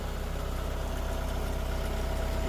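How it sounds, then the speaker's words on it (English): A MX5400 tractor fitted with a Split-Fire Buck-It grapple idles steadily, its engine giving a continuous low rumble with constant vibration throughout, close and alone with no talking. "The Split Fire Buck-It on a MX5400 tractor."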